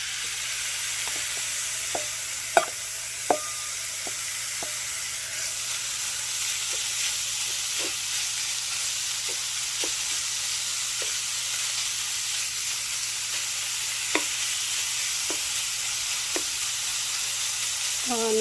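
Rough-cut bacon end pieces render their fat in a pan with a steady, soft frying sizzle, scattered sharp pops and crackles, and a brief louder spatter near the end, heard alone without voices.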